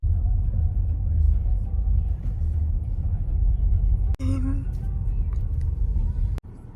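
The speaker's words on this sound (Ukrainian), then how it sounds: "Одразу в'їхали заправитись тут поруч." A car engine rumbles steadily from inside the cabin as it pulls into a nearby gas station, with a couple of brief clicks and knocks partway through.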